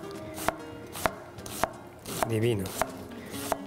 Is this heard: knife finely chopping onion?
yes